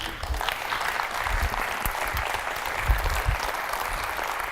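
Audience applause after a talk, a steady wash of many hands clapping at moderate loudness with a few low thumps, and no voices standing out above it.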